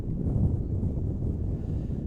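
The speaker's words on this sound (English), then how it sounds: "you can hear that wind gusting out here at Parsons Field" Wind gusts buffet across an outdoor high school baseball field at Parsons Field, a low, rough, continuous rumble at moderate level with no voices present.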